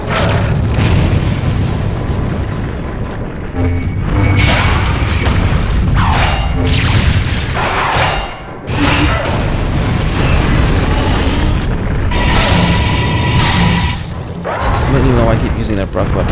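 Monster breath-weapon blasts in the arcade game Godzilla Save the Earth, played as Destroyah: loud, continuous booming explosions and crashing impacts fill the whole stretch, with someone talking over the game sounds.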